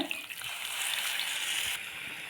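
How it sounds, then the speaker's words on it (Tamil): Tamarind water is poured into a pan of sizzling aloe vera curry, giving a steady close frying hiss and bubbling with a brief splash at the start. "இப்போ இந்த புளியை இது தலையில் ஊற்றிடுங்க"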